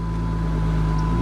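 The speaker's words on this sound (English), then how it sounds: "Rev it up a little bit." A car engine, near and loud, holds a steady deep rumble with a sustained low hum and no clear rise in pitch.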